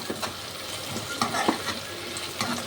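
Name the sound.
onion and curry leaves frying in oil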